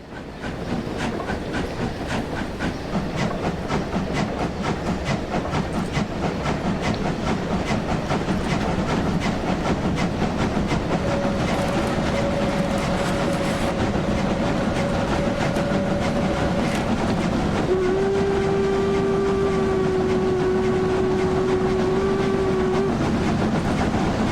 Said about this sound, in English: I've definitely heard better sounding steam engines, but I've also heard a lot worse